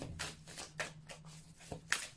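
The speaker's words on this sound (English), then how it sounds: "even though they feel a tad flimsy, they do shuffle quite well" Tarot cards with a slightly flimsy stock are shuffled in several quick riffling bursts, close and fairly quiet, with a low steady hum beneath.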